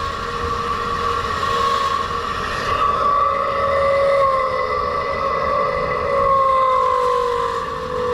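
Faulty downblast centrifugal exhaust fan droning loudly and steadily, with strong whining tones whose pitch slowly wavers up and down, in and out, throughout, with no talking.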